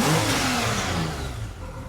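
A 35-year-old Honda Goldwing motorcycle engine, running with its airbox refitted, revs up loudly and close for a brief burst, then eases back slightly.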